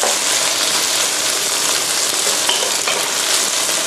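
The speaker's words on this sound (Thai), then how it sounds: "ใส่กระเทียมไปหน่อยนึงครับ เอาหมูมาคลุกหน่อยก็ดีจะได้มันออกแถวนี้" Garlic and pork stir-fried in a hot pan for Thai fried noodles with bacon and egg, giving a loud, steady, close sizzle with faint scraping of stirring throughout, no talk.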